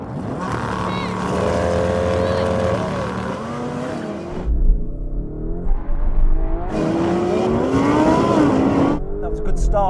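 Lamborghini Urus, Aventador and Huracan launching side by side in a drag race, loud engines roaring and rising in pitch through gear changes, with a deep rumble and harmonic whine, voices faintly present under the noise.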